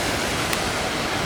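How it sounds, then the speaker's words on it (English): Steady, broad rushing of a garden waterfall at Chiswick House in London, a continuous hiss of falling water heard close and fairly loud, with no voices. "On a bench by this lovely waterfall, which I'm sure you can hear in the background."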